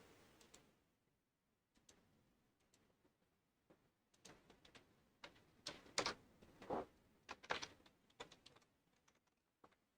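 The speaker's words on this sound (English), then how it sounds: "My typing's a little off today." Quiet, irregular keystrokes on a computer keyboard, sparse at first and then coming in quicker clustered bursts of clicks, close by with no voices.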